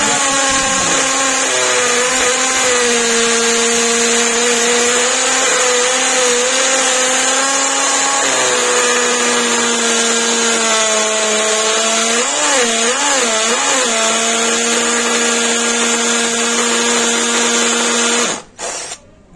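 A VONDER cordless drill running on a DEWALT battery bores into concrete with a loud, steady, high whine that wavers slightly in pitch, then cuts off abruptly near the end.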